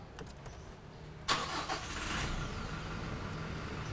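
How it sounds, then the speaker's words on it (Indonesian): A 2021 Toyota Innova Venturer diesel engine cranks and fires after a few quiet clicks, then settles into a steady close idle with a clattering diesel rumble. "Tuh diesel suara khas ya."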